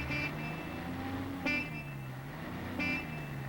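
Heavy road traffic rumbles steadily while car horns toot in short bursts, three distinct honks spaced about a second and a half apart over the continuous engine drone.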